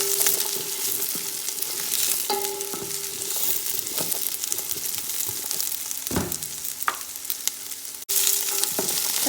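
Onion and long green beans (bora) frying in a pan for chow mein, stirred with a continuous bright sizzle and periodic scraping strokes, a brief cut near the end, no talking.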